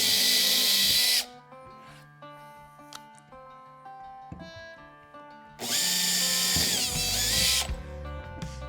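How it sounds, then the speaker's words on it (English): A power drill with a 3/16 inch bit runs in two loud bursts drilling through holes on a Hobie kayak, separated by a quieter stretch of faint clicks and handling noise, close and harsh. "and then come back and drill them through."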